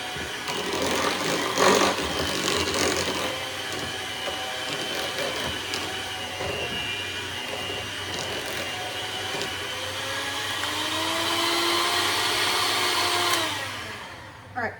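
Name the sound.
electric mixer mixing potatoes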